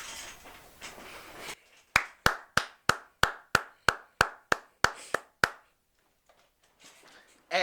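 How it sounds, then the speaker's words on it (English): About eleven sharp, evenly spaced claps ring out one at a time, close and crisp, after some quieter murmuring and before a short pause. "And that round of applause goes to Sky for keeping his toes on this guy"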